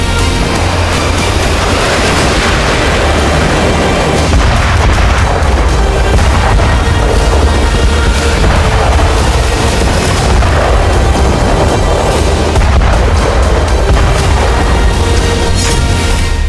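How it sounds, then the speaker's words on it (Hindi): Heavy FAB-3000 bombs dropped by Russian Su-34 fighters explode over Kyiv, a loud, continuous barrage of deep booms and rumbling blasts with no voices. "रूस के Su-34 फाइटर ने कीव पर फैब 3000 बम दागे।"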